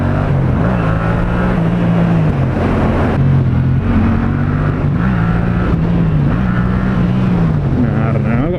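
Yamaha MT-07 motorcycle engine in second gear, revving and surging through a clutch-up, with a loud, wavering drone that rises and dips over steady wind rush.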